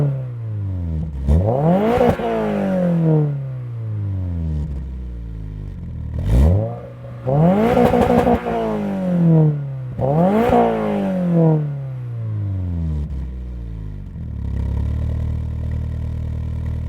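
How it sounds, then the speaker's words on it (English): A 2024 Toyota GR86 Trueno Edition fitted with the performance exhaust revs repeatedly, each blip climbing sharply and falling away, three strong rises with pauses between, loud and close, ending in a steady idle. "We have the performance exhaust, so this is optioned with that, and it sounds really good."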